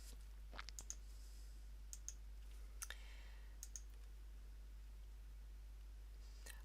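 A computer mouse clicks softly and sparsely, a few quick single and double clicks spaced out over a quiet room with a low steady hum underneath.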